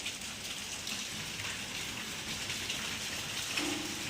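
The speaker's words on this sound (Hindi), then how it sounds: "ठंडी बारिश होने लगी" Soft, steady rain patters continuously on surfaces, a gentle hiss of drops with no voices.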